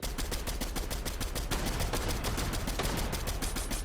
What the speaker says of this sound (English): QJ still shooting at them